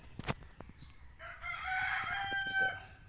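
A rooster crows with a long, drawn-out call over a few soft clucks, fairly close and clear.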